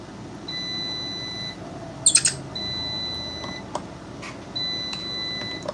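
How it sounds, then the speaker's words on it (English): Repeated electronic beeping in a room where fishing jigs are being tied, short high tones sounding in evenly spaced bursts with a couple of sharp clicks between them. "Sorry about that beeping."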